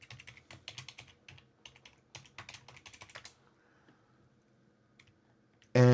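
Quick, close keystrokes on a keyboard as a password is entered on a ROG Ally handheld gaming PC, clustered taps in bursts for about three seconds, then a pause and a louder thud at the end.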